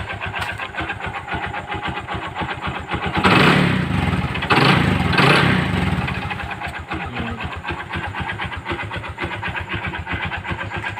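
A Honda XRM 125 motorcycle engine with a faulty connecting rod idles with a rapid knocking beat, then revs up loudly twice before settling back to a rattling idle, close by.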